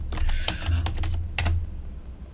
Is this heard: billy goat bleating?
no